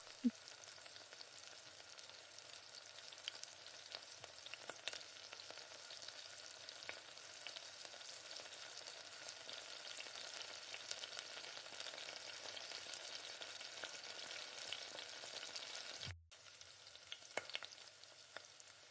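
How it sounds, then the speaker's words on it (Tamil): Onions sautéing in a pan for tomato thokku, with a faint, even sizzle throughout and occasional stirring scrapes. The sound cuts out briefly near the end, then resumes. "இப்போ வெங்காயம் நல்லா வதங்கணும்."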